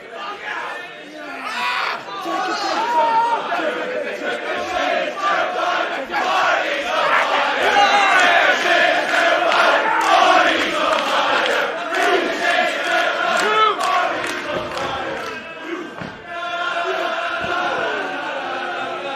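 Packed OTT wrestling event crowd cheering, shouting and chanting in a dense continuous roar, with a commentator's voice intermittently audible over the noise.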